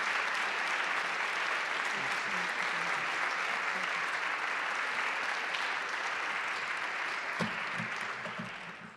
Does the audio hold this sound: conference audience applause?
yes